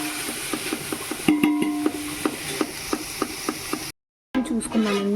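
A spoon scrapes and clacks rhythmically through tomatoes frying in a pan, with a steady sizzle underneath the repeated stirring strokes and a brief gap near the end.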